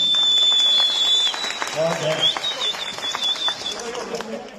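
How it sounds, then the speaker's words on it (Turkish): Applause breaks out in a wedding hall during a ceremony, a steady patter of clapping from guests with high whistles and voices mixed in, fading somewhat toward the end. "salonda alkış koptu"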